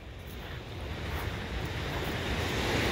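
Ocean waves washing onto an empty beach on a clear day, a steady broad roar of surf that swells slightly louder, with some wind buffeting the microphone.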